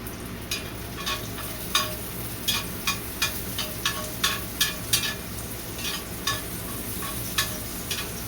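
Bacon and onions fry in grease on one side of a pan, giving a steady sizzle broken by frequent sharp stirring scrapes and pops, close and moderately loud.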